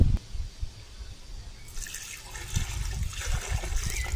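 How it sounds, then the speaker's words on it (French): Water poured into a fishing bait mix for catfish, a running, trickling pour that starts partway through after a quieter opening and continues steadily to the end. "Maintenant, je vais mettre l'eau et après, on va faire les boules."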